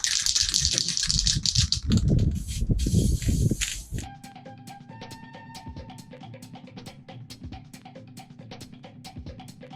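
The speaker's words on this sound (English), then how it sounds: "now I'm going to spray paint them using this" Rust-stopping spray paint hisses onto sanded metal scooter parts in a steady burst for about four seconds, followed by quieter ticking and rattling handling.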